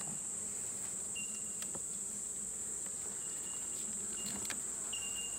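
Honeybees hum steadily around a beehive nuc during an inspection, a faint continuous buzz with a few brief passes of individual bees flying close.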